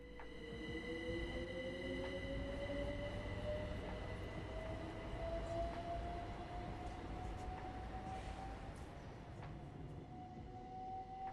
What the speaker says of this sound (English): fast Gatwick Express services whizzing by the station in either direction every 15 minutes